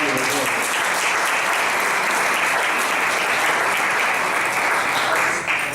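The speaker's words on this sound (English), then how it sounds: "we're still going to give him a big round of applause because he so deserves it" Family reunion guests giving a big round of applause for an absent honoree, loud continuous clapping from a close crowd lasting several seconds before tapering at the end.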